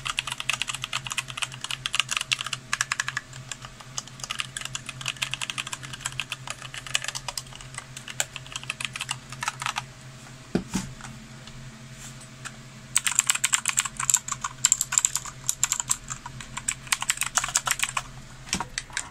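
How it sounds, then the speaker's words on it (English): Rapid typing on a one-handed mechanical gaming keyboard with brown switches, a continuous stream of crisp key clicks with a louder flurry near the end. "this keyboard does have brown switches, so pretty much you're gonna hear the difference between blue and brown"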